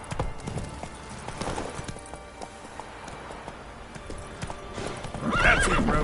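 A horse gallops in The Witcher 3, with steady clip-clop hoofbeats and a loud whinny near the end.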